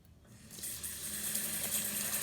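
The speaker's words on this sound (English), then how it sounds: "Let me add a bit of water." Water poured into a bowl of rice set to soak for appam batter, a steady gushing pour that starts after a brief quiet moment and holds close and fairly loud to the end.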